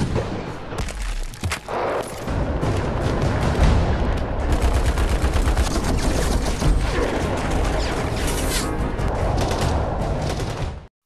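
Heavy gunfire in a film battle scene against ISIS, dense overlapping automatic bursts and loud shots, near and sustained, with booming impacts and no talk.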